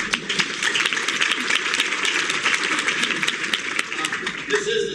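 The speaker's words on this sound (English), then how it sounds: "Okay, round of applause." A panel discussion audience bursts into sustained, dense applause, many hands clapping together at a steady roar throughout.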